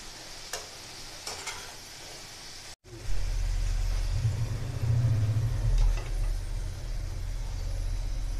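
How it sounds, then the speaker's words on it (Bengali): Gur kathi sticks fry in hot oil while being stirred, a steady sizzle broken by a brief cut, then a louder sizzle over a low rumbling hiss with occasional scraping stirs. "এইভাবে নেড়ে ছেড়ে আমি এগুলোকে ভেজে নিচ্ছি।"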